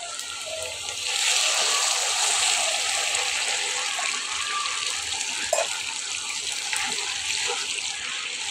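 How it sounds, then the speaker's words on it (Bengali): Water pours steadily into a cooking pot during home cooking, a continuous broad splashing rush that starts after a second and runs on near the microphone, with no talk over it. "তো এর মধ্যে আমি জল দিয়ে দিচ্ছি"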